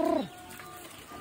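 A pigeon on a farm gives a single close, clear coo at the start, followed by quiet farmyard background.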